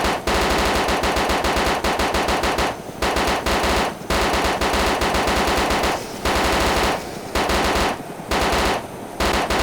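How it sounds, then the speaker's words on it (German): Sustained automatic gunfire in the DayZ video game, aimed at a helicopter: loud, close bursts of rapid shots separated by brief pauses, with no talking. "Der schießt auf einen Heli"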